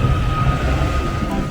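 Steady, loud rumble of a Merseyrail train heard from on board, just after leaving Liverpool Central for Moorfields, a continuous roar with no break and no talk.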